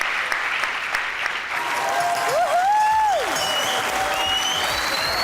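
Studio audience applause on a Pakistani comedy talk show swells loudly and steadily, with a faint whistle rising through the middle of the clapping.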